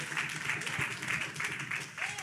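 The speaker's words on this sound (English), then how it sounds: "Clap your hands for the truth." Rhythmic hand clapping from a congregation at a community outreach session, quiet and somewhat distant, with voices mixed in.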